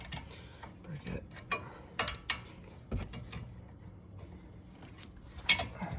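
A wrench works on the rear caliper bolt of a 1997 Honda CR-V during a brake pad and rotor job. It gives a series of metallic clicks and knocks, several clacks, and a sharp crack as the bolt breaks loose, with no talking.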